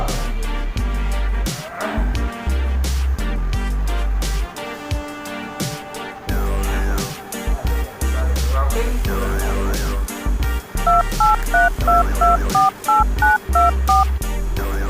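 A telephone number is dialed on a keypad, a string of separate DTMF tone beeps set over music with a heavy beat, with the tones most dense toward the end.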